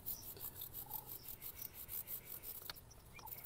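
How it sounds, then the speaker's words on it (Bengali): A brush scrubs a motorbike chain in light, repeated strokes, giving a soft, quiet rasping that pulses steadily, close by, with a couple of small clicks near the end and no talk. "এই ব্রাশ দিয়ে চেনটাকে হালকা হালকা করে ঘষে নেব।"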